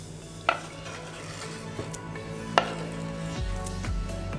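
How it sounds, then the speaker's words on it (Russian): Grated apple stirred into honey for a homemade cough syrup, heard as soft scraping and stirring with a few sharp clinks of a utensil against the bowl, close by with no talk. "Протертое яблоко также размешиваем с медом."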